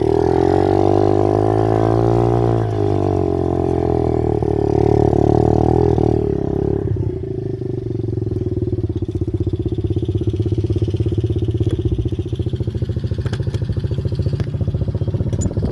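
A motorcycle engine runs steadily nearby, revving and rising in pitch for the first few seconds, then settling into a loud, even idle with clattery mechanical detail for the rest.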